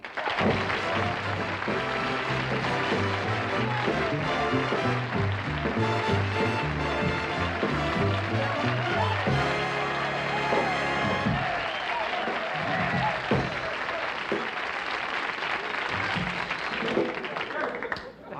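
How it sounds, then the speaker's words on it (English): A 1967 CBS television studio audience applauds Steve Allen on a comedy variety show, the clapping blended with loud band music for the first two-thirds, then continuing more openly as the music drops away. "I don't think we can follow that applause"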